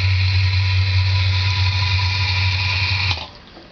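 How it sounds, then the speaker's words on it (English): A float-activated pump drains water from a concrete pit, running as a steady close hum with a low drone and bright watery rush that cuts off sharply near the end, leaving only quiet background. "And here this is pumping the water out."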